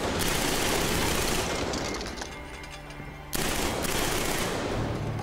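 Rapid automatic gunfire in the shooter game Killzone 3, aimed at wooden beams, dense loud bursts that pause briefly around the middle and then resume, close and alone with no voices.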